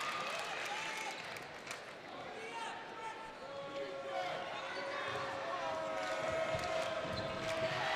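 Crowd noise fills a gym at a Central Dauphin East vs Central Dauphin high school basketball game, with a steady roar, occasional ball bounces and a commentator talking over it.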